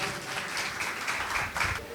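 An audience claps during a church service, a brief burst of scattered, moderately loud applause with uneven rhythm lasting about two seconds, no clear voices over it.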